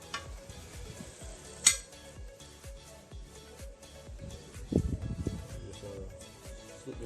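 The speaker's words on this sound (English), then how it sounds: "Fry the plantain." Plantain pieces fry in hot cooking oil with a steady low sizzle, while utensils stir and clink against the pot and one sharp metallic clink stands out near the start.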